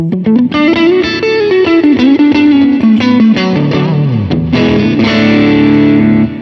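Crunchy mid-gain electric guitar through a Vox AC30 amp plugin, loud and continuous, with chords and single notes ringing in a steady rhythm and a sliding bend near the middle, no talking.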